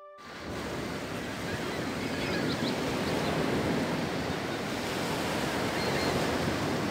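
Rushing waterfall ambience in the video game Baldur's Gate Enhanced Edition, a steady broadband roar of falling water that swells in within the first half second and holds constant and fairly loud, with no talking.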